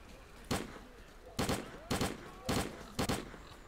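Gunfire in the shooter game S.T.A.L.K.E.R.: Clear Sky: five loud, sharp single shots spaced unevenly over a low constant background, each with a short booming tail.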